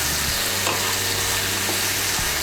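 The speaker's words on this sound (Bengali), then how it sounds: "এখন এর মধ্যে আমি দিয়ে দেবো ভেজে রাখা আলুগুলো। আলুগুলোকে মিশিয়ে নেব মশলার সঙ্গে।" Fried potatoes stirred into sizzling masala make a dense, loud, hissing fry with a few soft scrapes of the spoon.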